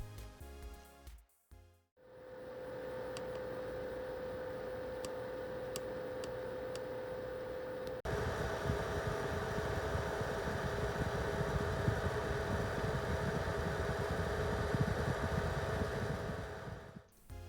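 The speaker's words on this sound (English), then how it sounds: "Take a listen to the fans during circuit racing, then for oval racing respectively." Cooling fans of a Fanatec Clubsport Wheelbase V2.5 racing-wheel base run at a steady close whir, first at one pitch and then louder and broader for oval racing, a few faint ticks over the top, with no talking.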